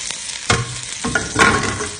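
Garlic fries in hot oil for an okra stew, with a close, steady sizzle and a couple of stirring scrapes and clatters against the pot.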